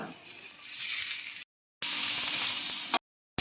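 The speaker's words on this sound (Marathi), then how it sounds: "आता हा कांदा चांगला परतला त्याच्यामध्ये आता हे आपण भाजून घेतलेली शेंगा" Roasted beans tipped into a pan of browned onion set off a broadband frying sizzle in two bursts, separated by brief silent gaps, with no talk.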